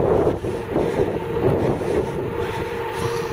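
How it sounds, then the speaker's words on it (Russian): Wind blowing from behind during a long-distance bicycle ride through hot open country, heard as a steady, loud rushing buffet against the microphone with no voices. "Температура чуть упала, и еще, благо, ветер дует сзади,"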